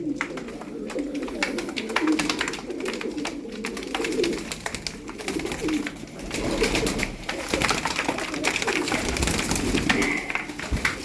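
Çakmaklı pigeons cooing continuously in soft, rolling murmurs, with wing flutters and scuffling close by; no talking.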